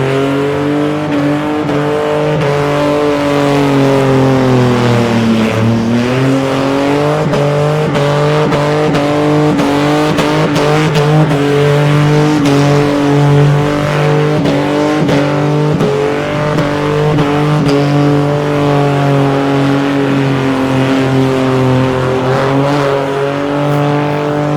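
A drag racing car accelerates hard down a street drag strip at the Casterton Street Drags, its engine loud and near, revving high with rising and falling pitch as it shifts, tyres smoking, over about twenty-five seconds.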